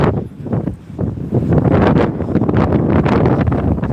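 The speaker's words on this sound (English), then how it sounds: "Damn, it's windy even here." Strong gusting wind at a beach in Da Nang, Vietnam, buffeting the microphone with loud, rumbling roar and rustle that swells and stays heavy throughout, with no talking.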